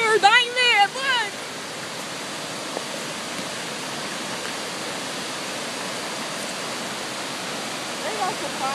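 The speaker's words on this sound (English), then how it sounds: "They got to climb that waterfall" A waterfall roars as a steady, dense rush of falling water throughout, with excited voices briefly over it at the start.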